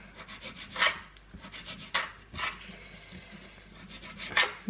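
A knife cuts food on a board in a home kitchen, making a few close, scraping slicing strokes spaced irregularly over quiet background.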